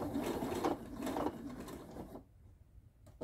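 Sewing machine back stitching binding on an oven mitt, a steady close mechanical whir with rhythmic needle pulses for about two seconds, then a quieter pause and a brief click.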